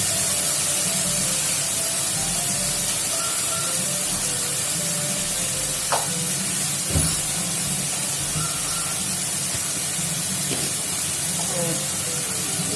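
Chopped tomatoes and green chillies frying in ghee with onions, a steady, even sizzle and hiss throughout, with someone talking over it.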